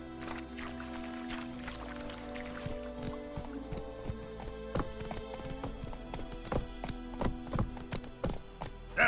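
Roach the horse gallops in The Witcher 3, with a quickening run of close clip-clop hoofbeats that grows louder toward the end over a low ambient game backdrop.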